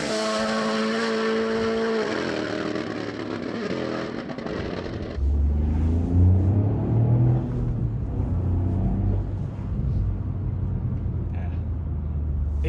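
A 2025 facelift Toyota GR Yaris drives a rough back road, its engine droning steadily from inside the cabin and changing to a deeper, louder rumble about halfway through, with road noise throughout.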